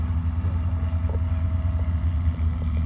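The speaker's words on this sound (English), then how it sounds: "Okay, here comes Jan in that Super Duty with that Viking engine." A Super Duty STOL airplane with a Viking engine drones low and steady at a STOL competition, its deep, continuous hum mixed with wind noise.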